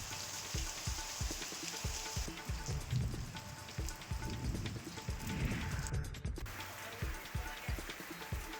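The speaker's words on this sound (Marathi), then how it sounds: "मध्यरात्री मेघगर्जनेसह जोरदार पाऊस झालेला आहे" Heavy unseasonal night rain with thunder pours down steadily, a dense, even patter of drops hitting surfaces close by, continuous throughout with no voices.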